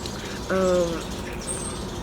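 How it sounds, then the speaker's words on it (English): A blackbird gives a single short harmonic call close by outdoors, with a faint high chirp following a moment later. "bro, I'm getting so distracted with these birds. Let me tell y'all, they be flying so close. These blackbirds is something else."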